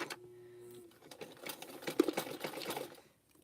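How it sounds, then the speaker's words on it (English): A sewing machine back stitching through rope, a short hum of the motor followed by a quick burst of rapid clattering stitches, faint and close, no speech. "I'm going to back stitch right quick."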